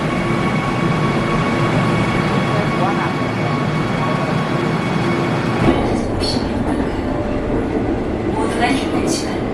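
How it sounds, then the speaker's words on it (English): A Korean bullet train rumbles past loud and continuous, a dense rolling roar with faint tonal hums and some rattling toward the end. "Will this be our replacement train?"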